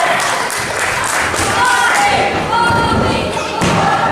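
A wrestler crashes onto the ring mat from a suplex at a live pro wrestling show, landing as one heavy thud against constant loud crowd noise, with more muffled impacts and crowd swells around it.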